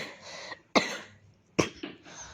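Two or three sharp, close coughs break out one after another, each a harsh burst trailing off, with no speech around them.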